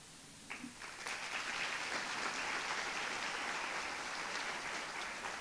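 An audience at a FAMU Black History event applauds legislators and commission members, the clapping starting with a few scattered claps, then swelling into a steady, sustained round from many hands, fairly distant and soft.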